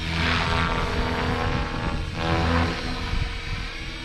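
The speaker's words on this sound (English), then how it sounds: "What a wonderful flying helicopter." A TRex 500xt radio-controlled helicopter on its maiden flight whines loudly and continuously overhead, rotor and motor noise holding steady with a brief dip in the middle.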